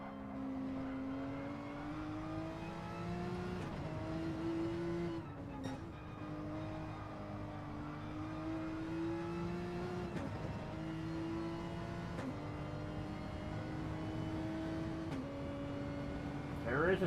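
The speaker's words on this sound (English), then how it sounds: "Bufu Shidara really short shifting that Porsche right now" A Porsche GT3 race car engine is revved and short shifted during a GT3 championship race, with repeated rising whines broken by quick gear changes. Commentary runs over the moderately loud engine throughout.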